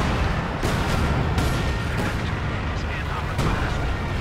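Continuous artillery strikes in Company of Heroes 2, a dense, loud barrage of overlapping booms and blasts pounding without pause, with a voice speaking over the din.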